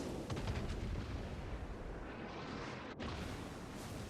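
Heavy naval gunfire rolls continuously in a World of Warships battle around a Yamato, dense overlapping booms and rumbling salvos filling the whole stretch with only a brief dip near the end.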